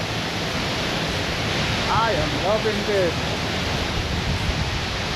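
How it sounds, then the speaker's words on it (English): Looking Glass Falls in Pisgah Forest, North Carolina, roars as a steady, loud broadband rush of falling water that fills the whole clip, with a voice speaking briefly over it midway. "You can feel the wind blowing off of the waterfall."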